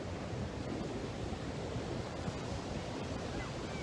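Soft, steady wash of ocean waves, a faint continuous hiss and rumble with no distinct breaks or voices, like distant surf.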